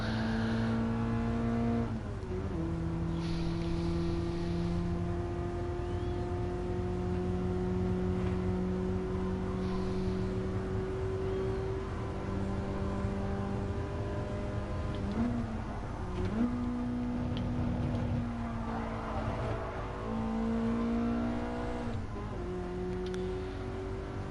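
A race car engine in a video game drones loudly and steadily at high revs, hovering near the rev limiter, with brief pitch drops at gear changes throughout.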